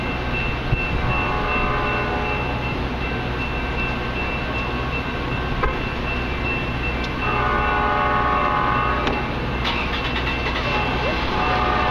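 Metra commuter trains rumble past at Western Springs near Chicago, a steady heavy rail roar with clanks and a drawn-out horn blast, while a person talks over the passing train.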